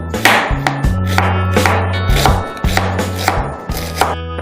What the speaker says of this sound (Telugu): ఉల్లిపాయ తీసుకుని మనం ఉల్లిపాయని ఫస్ట్ సన్నగా కట్ చేసుకుందాం.